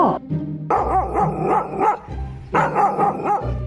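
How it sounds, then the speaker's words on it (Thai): A small dog in a Sakura School Simulator cartoon barks repeatedly at close range, two quick bursts of yapping barks separated by a short pause, loud and alone. "มาเห่าลูกฉันได้ยังไง"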